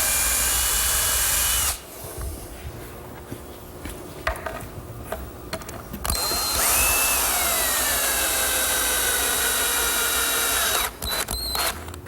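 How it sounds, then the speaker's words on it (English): A power drill with a step bit bores screw holes into a wooden laundry center, making loud, sustained whining runs with brief pauses and a change in pitch as it cuts. "It's a step drill. It drills just the right diameter for the thread and for the shank of the screw."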